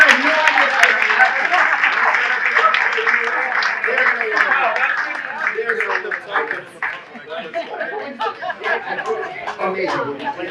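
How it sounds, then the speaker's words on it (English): An audience at a chamber of commerce appreciation dinner applauds for a guest at a mentalism act, a dense burst of clapping mixed with chatter and laughter that slowly thins out. "give Steve a big round of applause for guessing the number"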